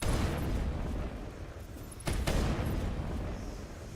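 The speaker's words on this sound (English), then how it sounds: "The shots sound like just massive, like 500 gram firework, bro. Just whenever I shoot my sniper rifle." A sniper rifle fires in Mass Effect with massive, firework-like booms. One blast opens the clip and a second sharp report hits about halfway through, each followed by a loud, rumbling decay.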